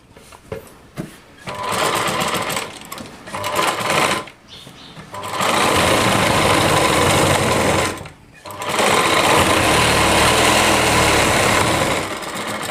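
A sewing machine runs in long continuous bursts, stitching a heavy-work Rajputi lehenga with stones, stopping briefly between runs; loud and close, with a few short pauses.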